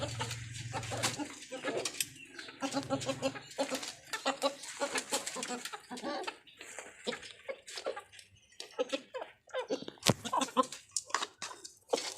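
Chickens cluck in a rapid, irregular series of close, sharp calls, with bursts of busy clucking and short pauses between; a voice may be mixed in among them.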